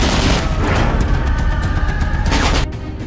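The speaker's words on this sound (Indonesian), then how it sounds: "lalu terjadi baku tembak dengan Henrik." A film shootout erupts in dense, rapid gunfire, a loud continuous barrage of overlapping shots that drops off abruptly near the end.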